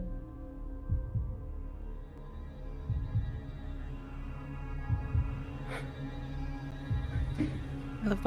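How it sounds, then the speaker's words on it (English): A heartbeat sound effect in a creepy horror story scene: slow, muffled low thumps recurring about once a second over a dark, humming background, fairly quiet and with no talking. "I love the heartbeat sound effect."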